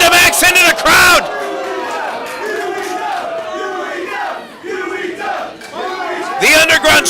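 An underground wrestling crowd cheers and roars after a wrestler dives through the ropes onto an opponent, a loud, sustained mass of voices with bursts of yelling at the start and end.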